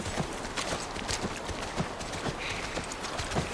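Horse hooves clip-clop in The Last of Us Part I, a steady, fairly loud run of hoofbeats that carries through the whole stretch with no talking.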